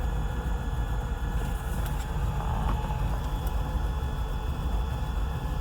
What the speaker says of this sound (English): It's idling at 550.